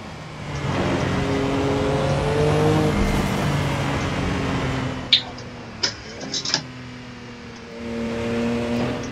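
A race car engine in Assetto Corsa drones steadily at moderate revs, its pitch rising and falling slightly as the car is driven slowly, with a few sharp clicks and knocks midway and no talking.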